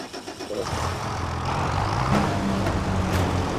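A tractor engine starts up in the video game Farming Simulator 25: a rough cranking rumble builds, then settles into a steady, close idling drone.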